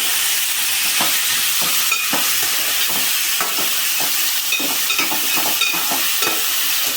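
Chicken curry being mixed in a frying pan, a loud steady sizzle with repeated soft stirring scrapes and knocks throughout, no voices.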